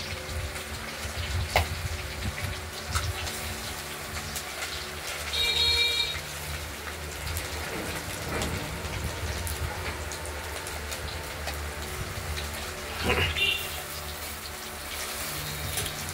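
Fritters made from catla fish oil bubble and sizzle in hot oil in a pan, a steady close crackle with brief stirring scrapes and no talking.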